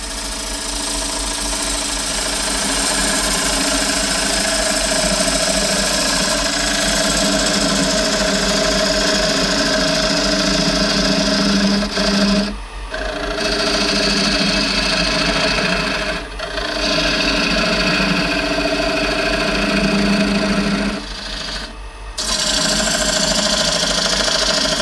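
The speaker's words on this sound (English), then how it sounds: "I'm going to come in with the spindle gouge and just clean up the bottom of the foot to give me a nice flat surface" A wood lathe spins an olive ash bowl while a spindle gouge cleans up the bottom of the foot, giving a steady close whirring hum with a scraping cutting texture, broken by a few brief pauses.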